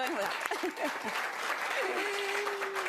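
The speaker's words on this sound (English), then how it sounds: "That's something to clap about." A campaign rally crowd for the Ontario NDP in Scarborough breaks into applause, a continuous wash of clapping with a few voices briefly audible over it and a faint sustained tone near the end.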